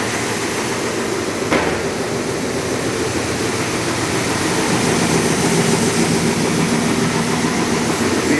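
A Timesavers two-head, 36-inch wide belt sander running: a loud, steady broadband roar with a low mechanical hum and one brief thump near the start. No voices.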